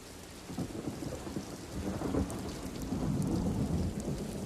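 Steady rain falls with a low, rumbling roll of thunder underneath, heard from a distance and fairly quiet, with no one talking.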